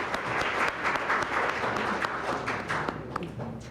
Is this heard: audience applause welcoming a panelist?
yes